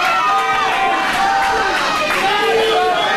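Loud arena crowd at a steel cage wrestling match roaring and cheering, a dense wall of voices with rising shouts and whistles filling the space continuously.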